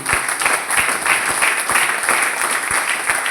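An audience at a training session claps as a leader stands to be recognized, a brief burst of fairly loud applause with several distinct sharp claps standing out.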